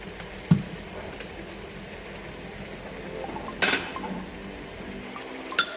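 A spoon clinks faintly against a bowl while chilli sauce is stirred into a mayonnaise-based sauce for BBQ rice, with a few sharp taps and scrapes over a quiet kitchen background.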